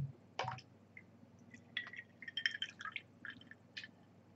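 Club soda poured into an old fashioned cocktail, with soft fizzing, bubbling and small splashes in a short, irregular run, quiet and close.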